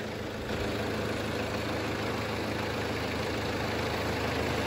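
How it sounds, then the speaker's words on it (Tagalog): A Japan surplus military jeep engine idles nearby, a steady loud rumbling drone with even low throbbing that holds constant after a brief rise at the start. "Ayan po yung andar"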